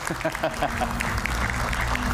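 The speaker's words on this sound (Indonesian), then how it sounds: "Kita berikan tepuk tangan" Audience applause for Refli Harun at a political talk event, steady crowd clapping throughout with voices talking over it.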